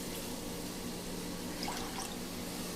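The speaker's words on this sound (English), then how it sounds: "what I'm gonna do is I'm gonna add my water" Water, about two cups, poured into a pan of smothered cube steaks and onions, giving a steady, moderately loud liquid rush throughout with no talk.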